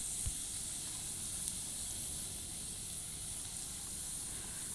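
Potato chips frying in hot oil give a steady, even sizzle and hiss that holds without a break, fairly quiet and close, with no voices over it.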